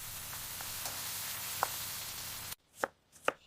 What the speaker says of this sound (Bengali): এবার পেঁয়াজ আর ক্যাপসিকাম কেটে নিচ্ছি।